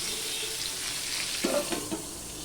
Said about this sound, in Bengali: পটলগুলো ভেজে নেব